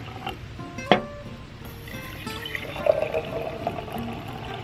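Water pours and splashes quietly into glasses holding sprouting seeds, filling them about halfway, with a few small clinks and trickling sounds.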